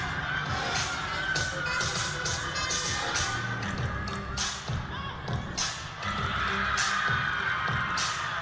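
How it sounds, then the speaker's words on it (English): Gymnast's teammates cheer and shout from the back during a Temple Owls floor exercise at a college meet, a steady crowd roar with scattered thumps and bursts of voices throughout. "You can see her teammates in the back cheering her on,"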